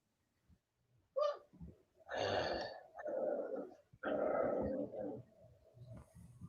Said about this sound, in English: we got little puppies making sounds